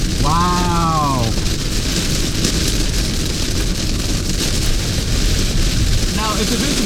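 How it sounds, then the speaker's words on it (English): Heavy storm rain pounds an electric car while driving, a loud, dense, steady hiss that fills the whole stretch, with a voice briefly heard near the start and again at the end. "the rain is picking up so darn fast now"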